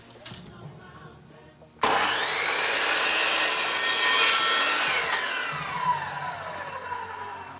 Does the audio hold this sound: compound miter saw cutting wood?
yes